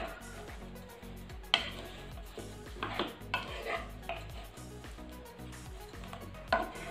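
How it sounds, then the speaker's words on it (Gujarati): Chopped dates and dry fruits pressed and stirred in a pan for a sugar-free sweet roll, giving soft scraping, squishing and occasional spoon-on-metal clinks close by, with no speech. "અને હવે આપણે તેને આવી રીતે દબાવતા દબાવતા મિક્સ કરતા જશું."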